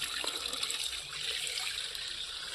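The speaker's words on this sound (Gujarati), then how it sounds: "બાકી આમ નળથી ભરી લેવાનું." Water runs from a tap into a container, a steady, fairly quiet rushing hiss that holds throughout with no voices.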